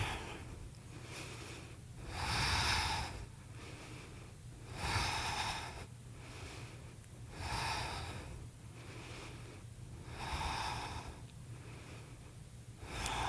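Deep, slow breaths during a vinyasa yoga flow, each long inhale and exhale rising and falling in a steady rhythm of roughly five cycles, close and audible with no talking.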